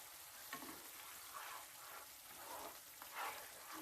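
Garlic spice paste for a white base seasoning sautés in separating oil, giving a steady, close crackling sizzle with occasional stirring scrapes.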